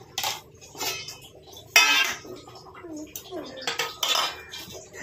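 Rice is served onto a plate with metal utensils at home, a string of sharp clinks and scrapes against dishes in uneven bursts, with a louder clatter partway through, close and clear.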